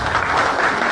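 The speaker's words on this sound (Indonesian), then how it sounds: "Aplaus untuk Bante Utamo." A dense burst of audience applause at a talk by Buddhist monk Bhante Uttamo gives a steady, full wash of clapping from a crowd indoors.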